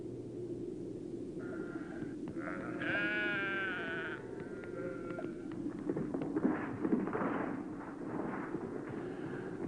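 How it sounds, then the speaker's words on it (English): Goats grazing among porous boulders on the barren slopes of Mount Ararat bleat in several wavering calls, one after another, over a constant low rumble of wind or ambient noise. "Goats graze among the porous rocks which absorb the melting snow"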